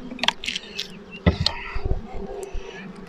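Honey bees buzz around an opened hive during an inspection, a busy near hum broken by sharp close passes and faint handling knocks.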